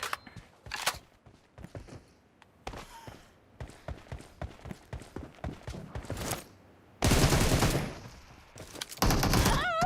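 PUBG Mobile gunfire crackles as rapid bursts of shots, some near and some distant, then swells into two long, loud stretches of sustained automatic fire.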